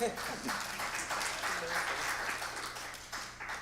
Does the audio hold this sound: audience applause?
yes